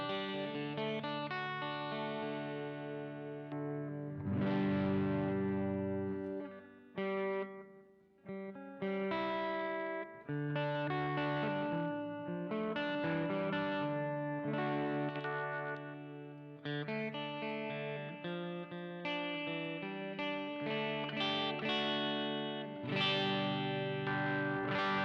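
Clean, chimey electric guitar played through an effects unit with chorus and slight distortion, ringing sustained chords and melodic phrases loud and close, steady throughout without talk.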